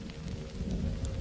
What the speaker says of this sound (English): It was raining that morning.